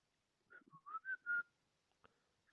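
Someone whistles a short tune of several clear rising and falling notes, close and alone, then a single faint click afterward.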